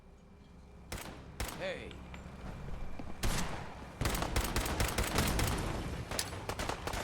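Gunfire in a battle in the video game Fallout 4, with loud sharp shots and rapid volleys that build into sustained heavy firing, mixed with shouting voices and a brief spoken word.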